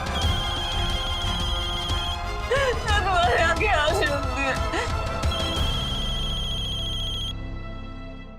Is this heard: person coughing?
no